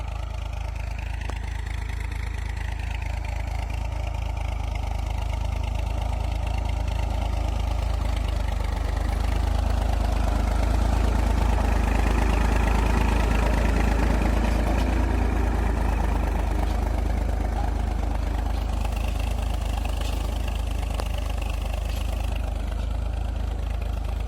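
A tractor engine runs steadily in a field, its low, continuous rumble holding close and even throughout with no voices over it.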